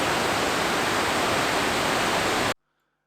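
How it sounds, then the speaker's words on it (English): Skógafoss waterfall in Iceland roars as a loud, steady broadband rush of falling water, which cuts off abruptly into silence near the end. "And right behind it, you have one of the epic waterfalls called the Skógafoss."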